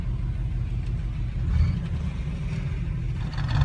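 A G-Body car's engine runs with a low, steady, fairly faint rumble, heard alone for a few seconds.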